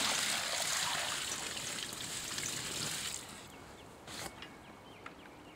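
Water pours and splashes into a backyard pool filled with thick cornstarch oobleck, a steady rushing stream for about three seconds that then drops away to quieter trickles and a few brief splashes.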